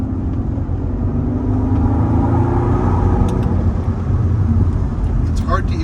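A Mercedes SL65 with a V12 engine accelerates along a short straight, its deep, steady engine roar heard from inside the cabin, droning continuously and loudly throughout, with a voice talking over it.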